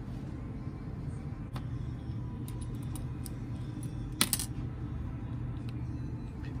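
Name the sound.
removing screws from Oster Classic 76 clipper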